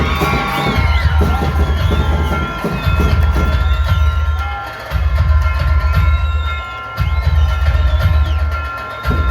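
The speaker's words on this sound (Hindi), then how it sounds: "सभी को जोरदार तालियां हो जाए" A crowd at an outdoor community event cheers and claps with whoops and shouts in loud waves, with a deep rumbling background and high whistling tones mixed in.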